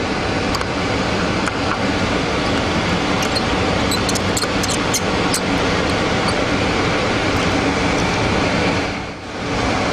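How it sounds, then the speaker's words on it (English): Steady broadband rush of air through a clean room used for hard drive recovery, constant and fairly loud, with faint clicks and taps scattered over it and no speech. "the noise you hear in the background is actually the air rushing through"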